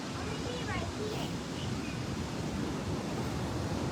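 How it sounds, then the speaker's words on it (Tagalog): Strong sea waves wash continuously onto a beach where people are surfing, a loud steady roar of surf mixed with wind noise on the microphone. "Ang lakas talaga ng alon mga kaibigan, no?"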